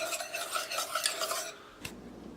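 Hollandaise sauce being whisked as butter is worked into egg yolks: a steady, fairly close scraping stir with light metallic clinks of the whisk against the bowl, fading into near quiet before one short tap.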